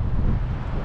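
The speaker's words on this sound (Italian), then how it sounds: "c'è un bel vento bello forte" Strong wind buffets the microphone in a sheltered Sardinian harbour where a sailboat is moored, a steady, loud low roar filling the whole short moment without pause.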